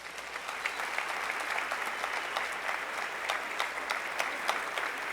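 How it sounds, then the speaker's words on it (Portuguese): Steady applause from a seated audience at a business talk, dense clapping filling the room at a constant moderate level from start to finish, with no voices over it. "aos meus mentores, Hélio Azevedo, Daphne, uma salva de palmas para eles também junto, por favor."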